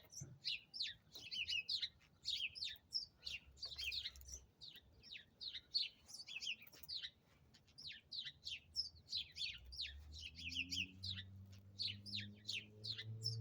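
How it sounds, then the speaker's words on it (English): Birds chirp and tweet in a tree in a garden, a dense run of quick high calls close by, with a low engine-like hum coming in toward the end. "Got birds in a tree."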